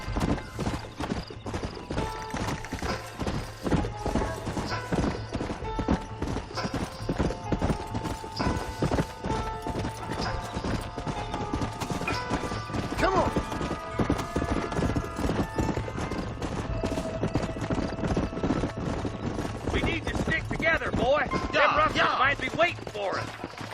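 Horses' hooves in the Red Dead Redemption video game, a steady, rapid clip-clop of several horses riding together, continuous and close, with a horse snorting or whinnying near the end.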